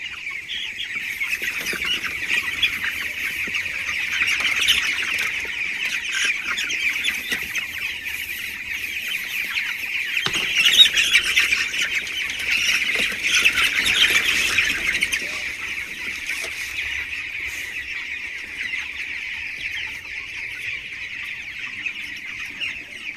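Farmyard chickens on a small hobby farm, a continuous flock of clucking and sharp squawks overlapping close by for the whole stretch, no talk over them.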